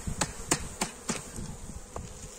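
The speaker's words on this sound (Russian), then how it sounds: "О, они тут наверху. Пчелы немного." Honey bees at a small beehive colony in early spring, a soft continuous buzz with several brief louder passes of individual bees flying close by, no talking.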